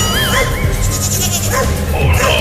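A cartoon baby goat bleats in short wavering cries while a dog barks nearby, all layered over a loud, busy soundtrack with no clear pause.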